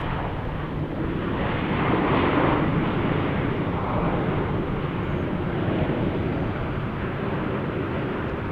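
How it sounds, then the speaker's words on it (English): An airplane landing at Salt Lake City airport: a loud, steady broadband jet roar that holds for the whole stretch, swelling slightly partway through, with no voices. "That's a nice butter landing right there."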